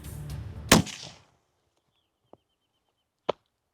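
One sharp, loud gunshot from a cursed homemade gun, a single crack with a short ringing tail, followed after a pause by two faint small clicks or knocks.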